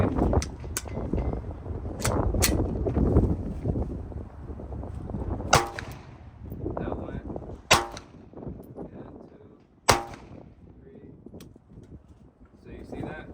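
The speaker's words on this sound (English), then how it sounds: "So I'm gonna try the Glock 19X again to see." A Glock 19X pistol fires outdoors as three sharp, loud single shots spaced about two seconds apart. Someone talks throughout, with wind noise around the shots.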